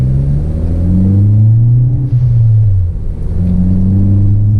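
A 2013 Ford Focus ST driven with traction control off, its engine loud and close from inside the cabin, revving and climbing through gears with falling and rising drones.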